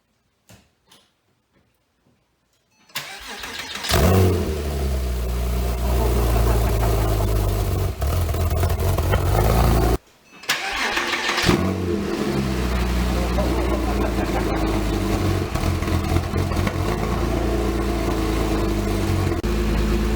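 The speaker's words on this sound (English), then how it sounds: "Nate is gonna do the honors by starting her up." Quiet for a few seconds, then a 2007 Porsche Cayman engine with a Soul Performance competition exhaust cranks and roars to life, settling into a loud, deep idle with a short cutout and restart partway through.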